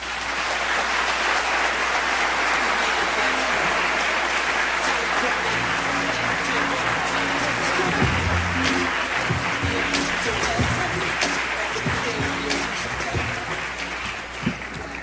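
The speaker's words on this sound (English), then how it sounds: "Please give a round of applause to Sister Rosa Clemente." Sustained audience applause for Sister Rosa Clemente, a hip-hop activist, at a university symposium, dense and steady for the full length, with some voices mixed in toward the end.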